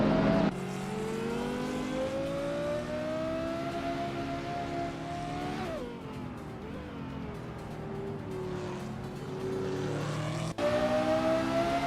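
Race car engines in a video game whine and rev continuously, pitch climbing and falling through gear shifts as cars overtake, loud and steady with a brief dip midway and an abrupt shift near the end, no voices.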